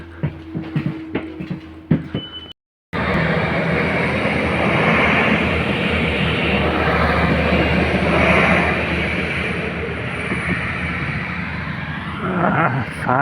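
A train arriving at a station while traveling, heard up close after a brief cut as a loud steady rumble and rushing roar, with some talk and clatter before it.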